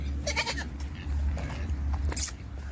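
A goat at a city farm bleats in a few short, wavering calls at close range, with a loud squeal near the end and no talk over it.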